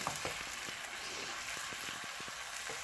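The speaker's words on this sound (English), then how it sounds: "So we are going to keep stirring this mixture for like 2 to 3 minutes" Spinach and wild mushroom stir fry seasoned with salt and Cajun seasoning, sizzling steadily in a pan with soft rhythmic stirring taps, faint and close, without speech.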